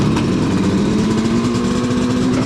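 A Yamaha HS1 motorcycle with baffles fitted in its exhausts runs steadily nearby, giving a muffled, even engine drone with no speech over it.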